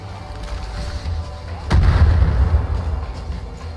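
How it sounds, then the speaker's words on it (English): Mortar fire in the Far Cry video game, one heavy boom landing partway through that rolls on as a low rumble over a steady bed of game noise. "Alright, that's a mortar."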